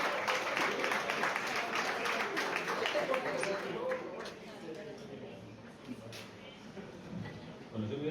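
An audience applauds to welcome a speaker at a talk, the clapping loud at first and then thinning out, with a voice starting to speak as it fades.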